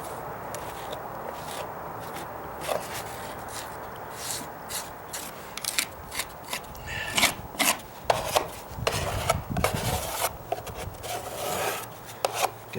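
Durham's Rock Hard Water Putty is scraped and spread onto rotted deck wood with a putty knife, close rasping and scraping strokes that start soft and grow into rapid, uneven bursts.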